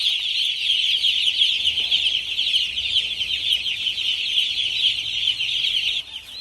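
Day-old chicks on a farm keep up a dense, continuous chorus of high cheeping, close and loud, with no voices.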